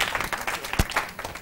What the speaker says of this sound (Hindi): तालियां कहाँ हैं?